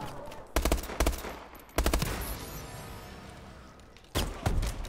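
Loud sniper rifle shots with explosive rounds in a shooter game, three heavy cracks spaced a second or more apart, each trailing into a rumbling decay.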